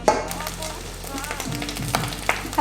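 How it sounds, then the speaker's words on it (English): Eggs fry in olive oil in a pan, a close, steady crackling sizzle with scattered louder pops and a few light scrapes throughout. "I'm not really good at frying eggs, to be honest."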